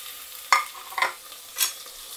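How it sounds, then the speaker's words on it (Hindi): Half a kilo of mutton stirred into softened onions in a hot pan for a tamatar gosht, with three short scraping stirs over a faint, steady sizzle. "अब ये जो हमारे पास आधा किलो मटन है, हम इसमें हाफ के जी मटन ऐड करेंगे"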